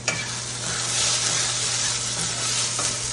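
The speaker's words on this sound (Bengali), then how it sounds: "আর এই যে এদিকে রান্না বসিয়েছি" Steady sizzle and bubbling of potato curry cooking in a pan on a home stove, loud and close with no pauses throughout.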